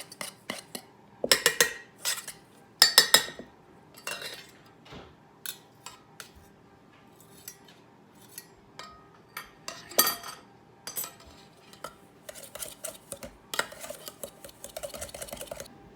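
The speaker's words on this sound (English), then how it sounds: "I'm gonna put that coconut oil in there. We're just gonna mix that together." A spoon stirs coconut oil into a cookies and cream mixture in a bowl, producing bursts of clinking and scraping against the dish separated by quiet gaps, then quicker rhythmic stirring toward the end.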